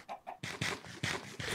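Chicken clucking in a live-action Minecraft parody: a quick series of about five short, close clucks in a steady rhythm, fairly quiet.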